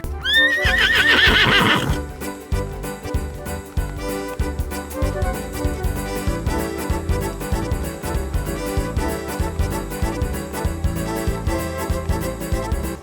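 A horse neighs loudly during an election campaign in a Muvattupuzha municipal ward, one long whinny at the start, followed by a steady stream of clip-clopping hooves and busy background noise.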